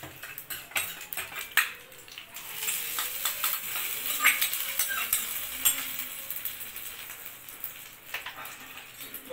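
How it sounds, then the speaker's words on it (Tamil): Hot tempering sizzles as it is poured into coconut chutney, a sudden bright hiss that starts after a couple of seconds and holds, with clinks of a metal spoon against the pan and stirring throughout. "நல்லா பொன்னிறமாக வந்துட்டு நம்ம தாளிப்பு ஊற்றிடலாம்"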